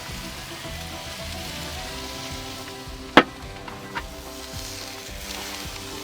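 Food sizzling on a covered grill, a steady soft frying crackle throughout, with one sharp clank partway through and a fainter knock just after.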